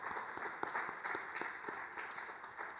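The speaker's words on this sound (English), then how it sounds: "a round of applause for them and Professor Melody Baglioni" Audience applause for a prize-winning team at a Cooper Union design challenge awards event, a fairly faint, steady patter of clapping from a distant crowd with no talk over it.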